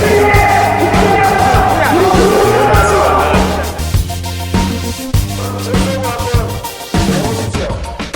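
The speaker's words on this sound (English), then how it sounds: "there's a massive demonstration going on behind us" A massive street demonstration in Korea roars as a dense crowd, loud and continuous with shouting and cheering voices over a low traffic hum, easing slightly partway through.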